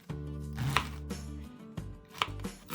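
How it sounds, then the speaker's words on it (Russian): A knife chops through cabbage on a cutting board, two or three soft thuds close by, in a quiet room. "Нарезаю вот такими не крупными, но и не мелкими кусочками"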